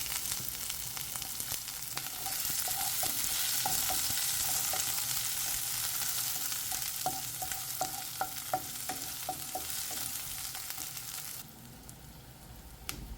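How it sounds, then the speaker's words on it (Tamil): A medium onion sautés in a pan until browned for a mint pulao, giving a steady loud sizzle with repeated clicks of a spoon stirring, and the frying noise drops away near the end. "இதில் நான் கட் பண்ண ஒரு மீடியம் சைஸ் ஆனியனை போட்டு வதக்குறேன்."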